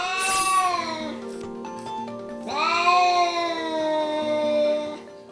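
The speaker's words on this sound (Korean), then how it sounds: "방에서 나와 아무도 없는 문을 향해 목이 터져라 울어댑니다" An angry cat yowls loudly toward a door in a house, two long, drawn-out wailing cries, the second sustained for several seconds, close and alone with no talk.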